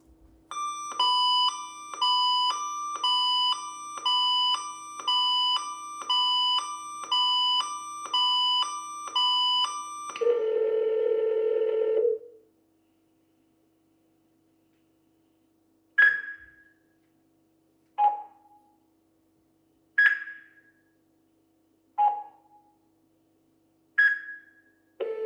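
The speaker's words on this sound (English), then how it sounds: "You can expect the device to signal an alert and connect to GetSafe's 24/7 monitoring center." A GetSafe medical alert device sounding its emergency alarm: a loud repeating electronic chime pattern for about ten seconds, a brief buzz, then spaced single beeps ringing out with silence between them.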